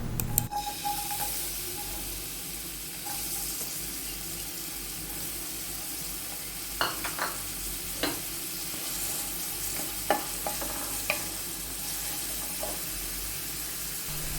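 Chopped onion sautéing in refined oil in a pan, a continuous crackling sizzle with scattered sharp scrapes and clicks of a stirring spoon, close up and with no talk.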